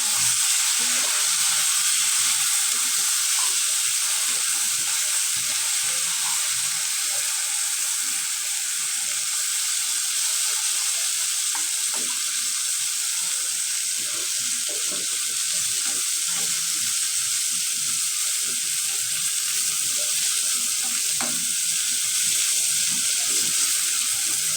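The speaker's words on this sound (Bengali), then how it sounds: "বেগুন ভাজা দিই টমেটোটা সহ।" Eggplant and tomato fry together in a pan with a continuous, even hiss of hot oil that holds steady and close for a long stretch, with no voices.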